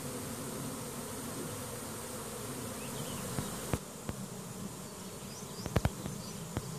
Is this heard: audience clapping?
no